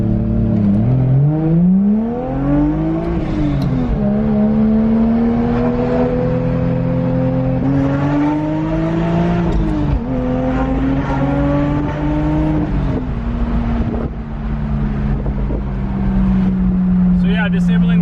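A turbocharged car engine on a dyno runs at 20 pounds of boost on pump gas, rising in repeated loud revving pulls, dropping back between them, then settling into a steady high drone.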